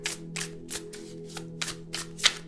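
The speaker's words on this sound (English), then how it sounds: "That's why sometimes the cards need to be shuffled a little bit longer." Tarot cards shuffled by hand in a steady series of about eight crisp riffling bursts, close and clear over a constant low electrical hum, with no voices.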